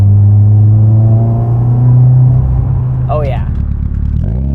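A 2015 Subaru WRX engine fitted with a Mishimoto catted downpipe holds near 3,000 RPM, a steady low exhaust drone that eases off toward the end while someone speaks briefly over it.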